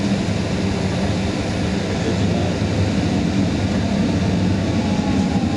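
A VIA Rail train rumbles steadily at Tremblay Station in Canada, a loud continuous low roar of rolling railcars and engine that holds without letting up the whole time, with no voices heard.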